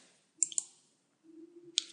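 A computer mouse clicking: a quick pair of sharp clicks, a pause, then a single click, all faint and close, over a low hum.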